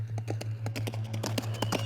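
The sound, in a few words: black horse galloping, hoofbeats sound effect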